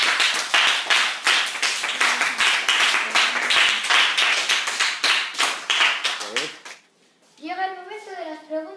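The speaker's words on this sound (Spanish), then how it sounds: "un aplauso" A classroom of primary school children clapping steadily for several seconds after a presentation on climate, then the applause fades and a voice speaks briefly.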